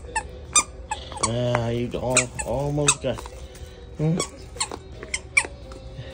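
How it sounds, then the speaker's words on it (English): The squeaker inside a hedgehog-shaped pet toy gives several loud, stretched squeaks, then fainter short ones and sharp clicks. A voice speaks briefly over the squeaking. "still has some squeak in it"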